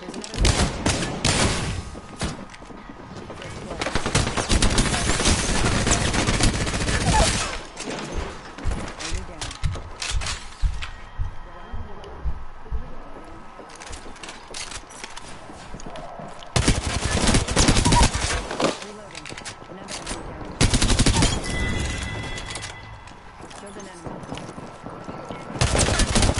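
Sustained automatic gunfire from an Apex Legends squad firefight, loud dense bursts with brief pauses between volleys, close and harsh, with players talking over the shooting.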